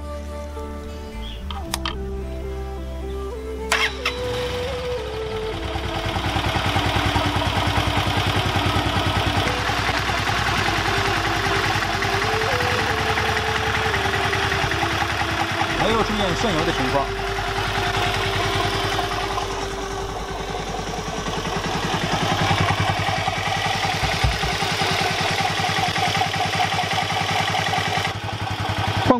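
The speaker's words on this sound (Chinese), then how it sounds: "机油更换完成以后，我们启动发动机，怠速运转3到5分钟" Motorcycle engine just refilled with fresh oil cranks and catches after a few seconds, then settles into a steady, close, loud idle with mechanical clatter; a brief voice is heard at the start.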